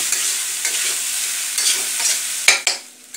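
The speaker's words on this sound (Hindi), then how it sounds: "थोड़ा सा चावल को फोड़ लीजिए जो गुच्छे में रहता है उसको उसके बाद सबको मिक्स कर दीजिए और अच्छी तरह से मिलाते रहिए" Rice being stirred and mixed while frying in a pan for desi fried rice, a continuous scraping and sizzling with a couple of sharper spoon knocks near the end, close and alone.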